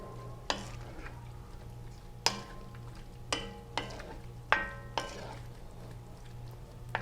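A spoon stirs salt and pepper into fresh tomato marinara sauce in a pot, with about seven sharp metallic clinks against the rim over a low steady hum.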